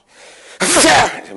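A voice imitates a sneeze: a quiet breathy intake builds up, then a loud, sharp, explosive burst follows, trailing off in a short fade, with no other talk.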